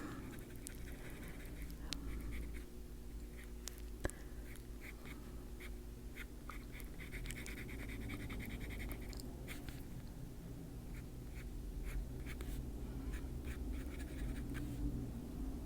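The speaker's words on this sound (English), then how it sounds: "it's a scratchier pencil than the other ones. So you can hear that more." A scratchy colored pencil draws on paper in steady, faint strokes, with small sharp scratches over a low background hum and no talking.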